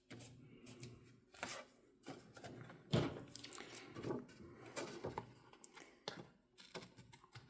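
Fiskars non-stick scissors cutting paper for a simple Valentine card, quiet close snips and crisp clicks scattered irregularly among soft paper handling noises.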